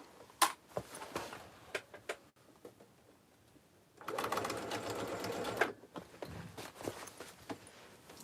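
A domestic sewing machine stitches an Oxbow tote bag, starting with sparse clicks and taps, then a sustained close whirring run of stitching for about two seconds, followed by more intermittent ticks.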